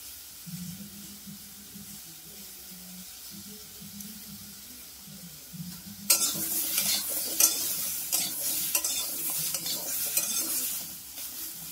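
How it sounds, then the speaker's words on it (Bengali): Bottle gourd pieces fry in a pan, a quiet steady sizzle that turns loud and crackling halfway through, with stirring scrapes and clinks, and no voices. "এই যে আমি লাউগুলোকে ভেজে নিচ্ছি।"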